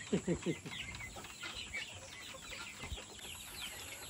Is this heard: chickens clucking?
yes